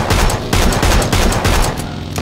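Rapid gunfire from the PUBG video game, a loud, dense fusillade of overlapping shots that runs without pause for about two seconds.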